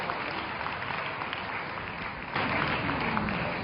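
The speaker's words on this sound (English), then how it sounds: "Can we give her a big fat round of applause?" Audience applause at an award presentation during an event: a continuous dense wash of clapping from a large crowd, swelling louder partway through and sustained to the end.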